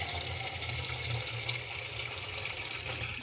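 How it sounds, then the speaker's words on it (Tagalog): Water runs steadily from a tap into a cooking pot before a salmon head goes in, a continuous close splashing rush with no talk over it. "Lagyan po natin ng tubig."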